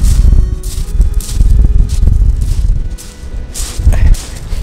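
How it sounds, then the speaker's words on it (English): Strong coastal wind roars and buffets close up, low rumbling gusts rising and falling continuously. "But see how windy it is here."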